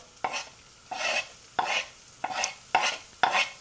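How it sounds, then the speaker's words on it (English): Chopped shallot stirred through melted butter in a pan, heard as five or six separate scraping, sizzling strokes at a steady pace, each about half a second, close and moderately loud with near silence between. "And give that a good stir."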